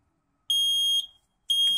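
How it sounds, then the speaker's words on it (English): A Nest smoke and carbon monoxide detector alarm blares in piercing high beeps indoors, one long tone then a short gap and another starting, loud and close with no talk over it. "This alarm can't be hushed here."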